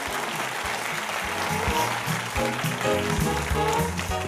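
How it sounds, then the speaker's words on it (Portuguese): An audience applauds a guest arriving on a TV talk show. The steady, dense clapping runs throughout at full volume, mixed with faint cheers and shuffling. "Uma salva de palmas para o nosso convidado."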